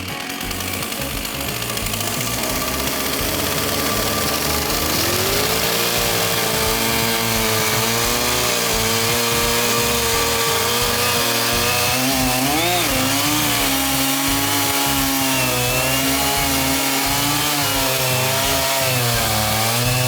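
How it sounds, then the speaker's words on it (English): A chainsaw with a long bar roars continuously at full throttle, loud and close, its engine pitch wavering as it bites through a thick zelkova log, with no talking. "It's been a while since I have used this long chainsaw bar"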